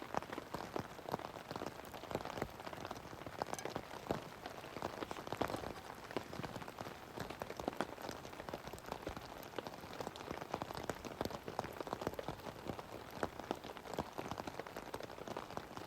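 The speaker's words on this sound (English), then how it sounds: "The rain's really coming down now." Heavy rain patters steadily on a tent in the mountains, a dense, continuous drumming with no voices.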